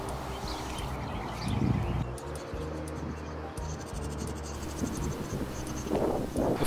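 Insects chirp in a sunny summer flower garden full of wildlife, a steady high-pitched buzzing and trilling bed with scattered faint bird calls and low rustling underneath, no talking.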